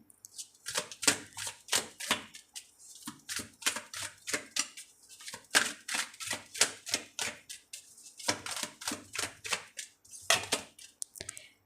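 Tarot cards being shuffled by hand, a long series of crisp riffling and slapping bursts in uneven rhythm, close and fairly quiet with short pauses between.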